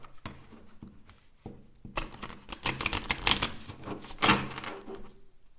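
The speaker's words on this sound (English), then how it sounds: "We'll have to give it a mega shuffle because it's all in order." A tarot deck being shuffled by hand, with a run of quick papery riffles and taps up close, growing busier and louder midway before settling.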